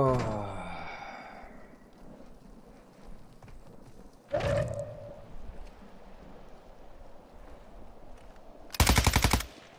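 Gunfire in the video game Warzone: a loud burst of rapid shots near the end, with an earlier single sharp crack and a few faint distant pops under game ambience.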